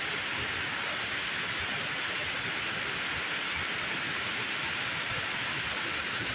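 Waterfalls in the morning pour in a constant, dense broadband rush that stays steady and even throughout, with no voices or other sounds.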